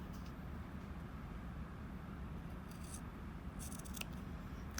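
Scissors cut fabric for a drawstring bag, giving a few faint, brief snips over a quiet, low background hum.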